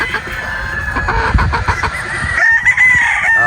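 Gamefowl pullets at a farm in Batangas cluck and squawk up close in short, uneven bursts, and a higher crowing-like call rises near the end.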